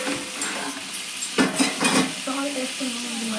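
Vegetable biryani mixture being stirred in a pan, a steady low sizzle with a few scraping strokes of the spoon clustered in the middle, close and moderately loud.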